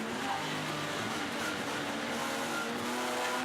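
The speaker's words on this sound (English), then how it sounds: "Hard on the brakes, down through the gears to turn 1" A BMW race car brakes hard at Manfeild and drops through the gears, its engine note stepping up and down in sharp revving bursts with faint tyre noise, heard at a moderate distance under steady track ambience.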